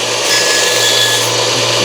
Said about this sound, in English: I do just a real quick sanding on the legs here.